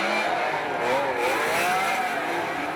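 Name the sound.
V12 Toyota drift car engine screaming at 8,000 revs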